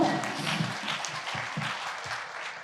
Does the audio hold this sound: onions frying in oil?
no